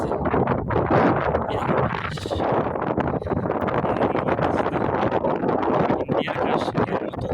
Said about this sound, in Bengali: অনেক বেশি বাতাস, অনেক অনেক অতিরিক্ত বাতাস